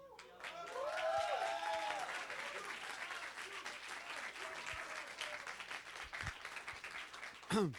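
Sustained applause from an audience at a student election event, steady and moderately distant, with a few voices and cheers mixed in before it fades to a sharp knock at the end.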